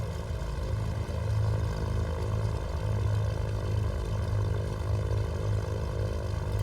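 Twin engines of a Cessna 310 idling just after start in a flight simulator, a steady, loud propeller drone with low throbbing that holds unchanged throughout, no voices.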